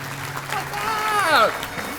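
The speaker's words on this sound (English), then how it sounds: "Big round of applause" A crowd at a community breakfast event applauds a couple being introduced, a soft continuous patter of clapping under a loud voice talking over it.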